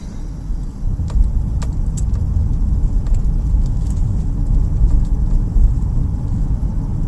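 Cars circulate on a road roundabout in foggy weather, a steady broadband traffic rumble with a few brief higher clicks and rattles, continuous and fairly close, no talking.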